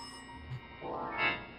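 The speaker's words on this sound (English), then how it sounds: "The phone. Someone's calling." Telephone ringing inside a house in the horror game Mirror Mirror: a brief bell-like ring swells up near the end of a quiet, short moment, with no talking over it.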